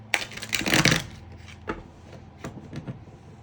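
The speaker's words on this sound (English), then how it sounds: "I'm like trying to like shuffle this in a very specific kind of way." Tarot cards are shuffled by hand up close: a dense riffling burst for about a second, then softer scattered taps and flicks as the deck is squared and handled.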